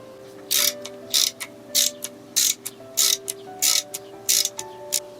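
A ratchet wrench tightening a bolt on a 1995 Yamaha DT125 enduro motorcycle, nine or so loud, evenly spaced bursts of rapid clicking, each a short crank stroke with brief pauses between, close up and alone.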